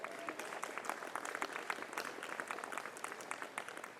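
Crowd applause at an outdoor ribbon cutting ceremony for a university building, a dense patter of many hands, faint and distant, continuing steadily.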